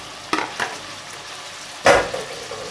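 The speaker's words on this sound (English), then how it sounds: "So now I'm gonna add the salted mackerel." Salted mackerel, with excess salt removed, going into a frying pan of cooked transparent onions for a Jamaican dish, giving two soft clatters and then a louder sizzling burst that fades, close by with no talk.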